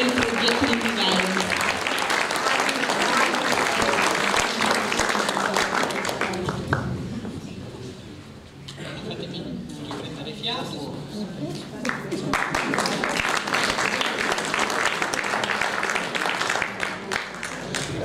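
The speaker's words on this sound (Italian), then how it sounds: "un grande applauso" An audience applauds at a chamber concert of a duo playing Vivaldi arrangements: loud steady clapping dips mid-way while a voice speaks, then swells again and continues.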